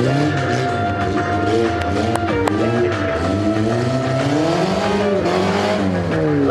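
A stunt car balancing on two wheels at an extreme stunt show revs hard, its engine note rising and falling in loud, close sweeps with brief tire chirps.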